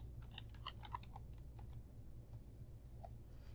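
Quick bursts of typing on a computer keyboard while entering a subheading in all caps, a cluster of fairly close, light clicks early on that thin out to a few scattered taps over a steady low hum.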